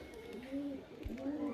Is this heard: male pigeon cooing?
yes